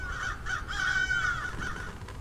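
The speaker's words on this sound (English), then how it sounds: "Crows, of course." Several crows caw repeatedly in the Hello Neighbor 2 video game, harsh rhythmic calls fairly close and clear over a quiet forest ambience, with no talking.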